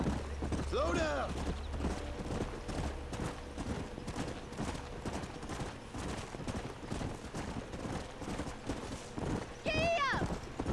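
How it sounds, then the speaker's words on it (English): Horse hooves clip-clop at a gallop in the video game Red Dead Redemption, with a steady rhythm beneath game music and gunfire-like bursts, while a voice talks over the action. "My horse shot off!"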